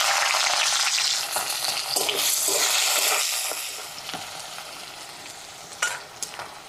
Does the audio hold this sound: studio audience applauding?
no